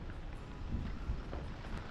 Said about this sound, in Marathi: जोराचा पाऊस सुरू आहे बघा